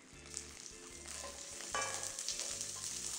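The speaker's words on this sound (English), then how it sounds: "You want to cook the garlic for around 2 minutes or so until they're golden brown." Garlic fries in a pan for honey garlic chicken wings. A soft, steady sizzle runs under a few quiet, regular stirring scrapes, and nobody speaks.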